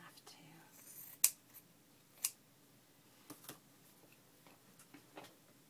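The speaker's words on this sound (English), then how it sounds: "I'm going to cut one of these in half too." Scissors snip through fabric while fabric clusters for a junk journal are made, giving a couple of sharp clicks and a few softer snips, fairly quiet and close with light handling noise between.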